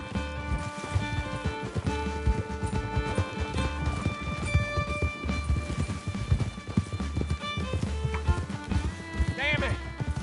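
A horse gallops in Red Dead Redemption 2 with rapid, rhythmic hoofbeats that run steadily under a musical score, and a voice speaks over them.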